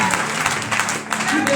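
A church congregation applauds and cheers at a night prayer service in Cocody, a dense, continuous wash of clapping and crowd noise with voices mixed in.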